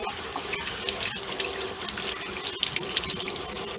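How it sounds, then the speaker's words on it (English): Celery sticks are rinsed under a running kitchen tap, a steady splashing stream in the sink with a few brief knocks, alone and at moderate level. "Let me give them a quick wash here."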